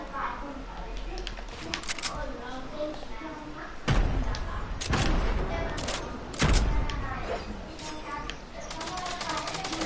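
Enemy gunfire in an online shooter video game, rapid volleys and sharp bursts with several loud thumps, mixed under excited conversation between players.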